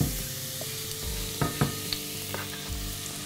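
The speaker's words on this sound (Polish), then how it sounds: "Mieszamy i podsmażamy go." Grated celery sizzles steadily in hot olive oil in a soup pot, a loud continuous frying hiss broken by a few knocks and scrapes of a stirring utensil.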